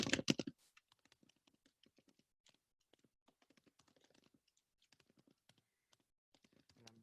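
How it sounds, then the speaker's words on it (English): Computer keyboard typed during a web development class, with quick, irregular light clicks alone in a quiet room. A louder burst sounds at the very start, and faint keystrokes run on after it. "let's practice by typing the required header"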